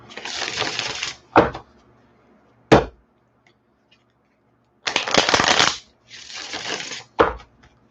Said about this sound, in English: when you're shuffling the tarot deck and a card jumps out